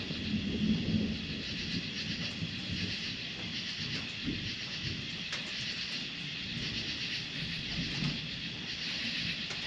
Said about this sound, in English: This sounds nice, having the metal roof with the rain hitting it.